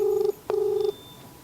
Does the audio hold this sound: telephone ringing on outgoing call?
yes